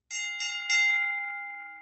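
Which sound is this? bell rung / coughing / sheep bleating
bell rung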